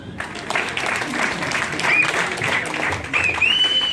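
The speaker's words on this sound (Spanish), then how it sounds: "démosles un aplauso" An audience claps for a family invited forward at a positive parenting gathering, a moderately loud stretch of applause with a few brief whistles and some voices mixed in.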